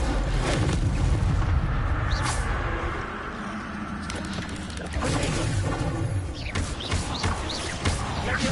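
An Incendio fire spell cast in Hogwarts Legacy bursts out as a series of booming, roaring blasts over a dense rumbling bed, loud and close, with several sharp flares of noise.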